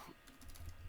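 Quick, quiet clicks of typing on a computer keyboard, a short close burst of keystrokes over faint low background hum.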